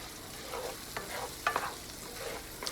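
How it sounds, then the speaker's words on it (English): Sausages sautéing in a pan give a soft, steady sizzle, broken by a few scraping stirs of a utensil, close and fairly quiet with no talk. "we're just going to saute these sausages for a little while"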